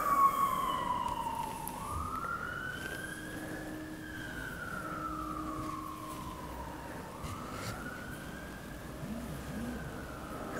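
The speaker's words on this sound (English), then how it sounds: "There goes the early morning ambulance." An early-morning ambulance siren passing at a distance, its wailing tone rising and falling in long sweeps, faint over a quiet indoor background.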